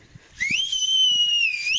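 A person whistles a single sustained, slightly wavering tone during a pilgrimage walk to Srisailam, fairly close and clear, with faint footsteps and low background noise.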